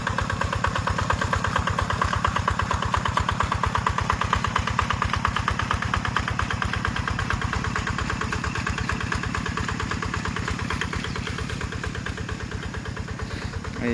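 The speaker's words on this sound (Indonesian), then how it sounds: "Jadi seperti inilah cara pemakaian traktor menggunakan mesin" Tractor engine chugs steadily during rice-field ploughing in Enrekang, a close, loud, rapid rhythmic putter held evenly throughout with no talk.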